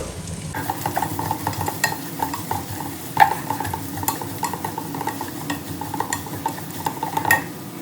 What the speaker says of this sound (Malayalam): ഇതിലേക്ക് നമ്മൾ എടുത്തു വെച്ചിരിക്കുന്ന അഞ്ച് സവാള അരിഞ്ഞതാണ് അത് ചേർത്ത് കൊടുക്കാം